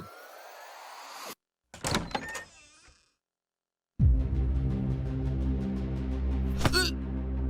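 A door being opened indoors: a few clunks and a rattling scrape after a stretch of quiet, then a pause and a steady hum with one sharp knock near the end.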